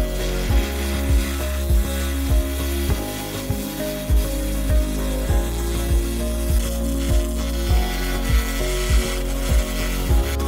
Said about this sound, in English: As large patches of metal rust were cleaned by the laser, the process was incredibly therapeutic.